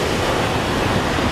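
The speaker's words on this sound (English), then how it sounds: "listen to the ocean" Ocean waves wash onto the shore outdoors in nature, a loud, close, continuous roar of surf with some wind rumble on the microphone and no talking.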